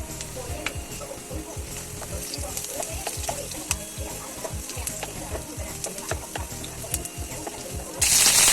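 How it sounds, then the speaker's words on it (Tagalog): Garlic sautéing in recycled cooking oil in a pan for ginisang ampalaya, a steady close sizzle with scattered stirring clicks and scrapes, loudest bursts near the end. "igisa lang natin ang bawang at hintayin natin mag golden brown"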